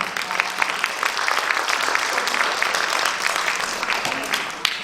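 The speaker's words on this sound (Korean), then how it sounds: "박수로 맞아주시기 바랍니다" An audience at a national kindness awards contest applauds as a volunteer group comes on stage, with dense, lively clapping throughout and a few sharper claps standing out.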